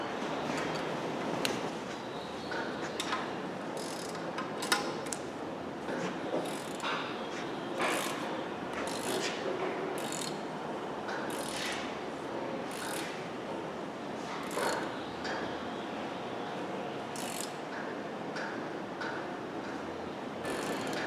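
A socket wrench ratchets on a Dodge 4.7 engine during bottom-end assembly, a continuous clicking, mechanical rattle close by with occasional sharper knocks and no speech.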